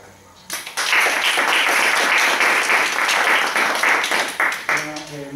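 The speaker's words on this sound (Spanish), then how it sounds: "pido un aplauso para Aníbal." Sustained audience applause fills a lecture hall after a talk on biodiesel and orangutans is introduced. Dense, loud clapping swells quickly and holds steady, then thins as a voice begins speaking at the end.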